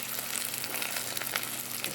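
Saltfish fritters, thin curry saltfish batter cakes, fry in hot oil in a pan with a steady, close, bright sizzle and crackle, continuous and even throughout with no talking.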